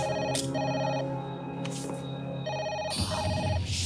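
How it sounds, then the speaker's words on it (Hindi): A telephone rings in repeated electronic trills, close and clear, with a brief noisy clatter near the end. "क्या कोई फोन नहीं उठा रहा?"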